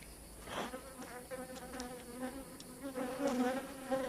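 Honeybees buzzing steadily around a hive as it is moved to another hive, a continuous close droning hum with individual bees swelling and passing near, no voices.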